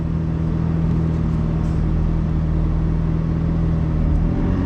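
V8-engined Porsche Half11 running flat out, a loud, steady, close engine drone with a constant low hum and no clear breaks, heard alone.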